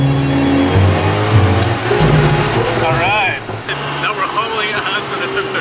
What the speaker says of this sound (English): we're taking a tuk-tuk back